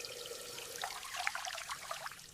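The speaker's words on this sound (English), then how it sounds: "I wash my face with cold water." Cold tap water running for washing a face, a faint short trickle and splash of droplets with no voices.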